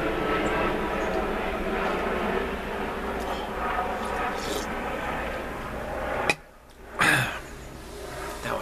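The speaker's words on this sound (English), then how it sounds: "It's a kind of weird airplane going through right now." A weird-sounding airplane passes overhead as a steady, broad engine roar that holds for several seconds, then cuts out abruptly and briefly returns.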